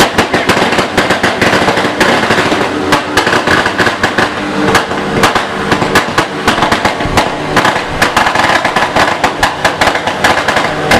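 Firecrackers explode in a dense, loud barrage at a Sundanese ngunduh mantu wedding celebration, sharp cracks popping rapidly and continuously throughout with no pause.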